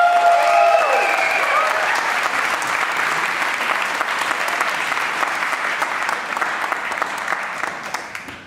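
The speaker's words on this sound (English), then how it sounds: "So remember, I want to hear a 10. Let's warmly welcome Kim Boutin." Audience applause welcoming a speaker onto the stage at the ITERATIONS 2024 conference, a loud, dense sustained clapping from a large crowd that fades slightly toward the end, with no talking.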